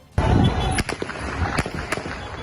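Sharp gunshots crack out during a street protest against the government, several loud reports standing out over a noisy crowd background.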